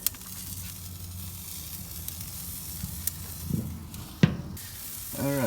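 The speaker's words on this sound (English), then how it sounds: "We put the sausage down over here to get that seared" Sausage searing on a grill grate, a steady close sizzle and hiss with occasional pops and a brief clatter near the end.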